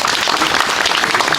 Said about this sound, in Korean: 자, 박수 한번 보내주시고요.